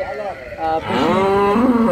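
Dairy cow on a Bangladeshi farm, a high-yield milking animal, lets out a loud, close, drawn-out moo that rises and holds for nearly two seconds, with no talking over it.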